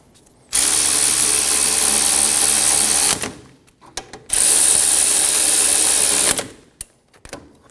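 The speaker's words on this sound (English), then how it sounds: "Install the caliper bolts. Snug the bolts down." A power ratchet or driver snugs brake caliper bolts on a Scion xB, running in two loud, steady whirring bursts of about three and two seconds, with a faint clink between them.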